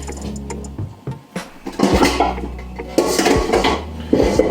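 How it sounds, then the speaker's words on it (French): Small metal saucepans clatter and clank as one is taken out and handled in a home kitchen during ragout preparation, with repeated sharp knocks and scraping rattles at close range. "On va prendre une autre petite casserole"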